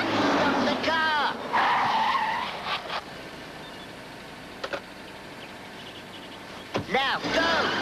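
Car tires screech in a skid as a vehicle comes to a halt, loud squeals rising at several moments, mixed with engine noise and shouted talk from people inside.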